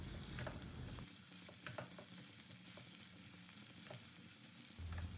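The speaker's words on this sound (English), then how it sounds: "we will add the raw banana and the boiled potatoes. And on medium flame, we will stir them well for a few seconds." Raw banana and boiled potatoes are stirred in a pan over medium flame, a soft steady sizzle with scattered spatula scrapes and taps, quiet and close.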